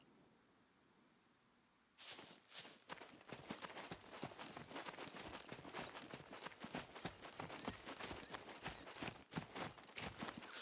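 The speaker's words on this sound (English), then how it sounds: "Just heard a horse." Horse hooves in the survival video game SCUM, starting abruptly after a quiet stretch and continuing as a steady run of close, crisp clip-clop strikes with no talk over them.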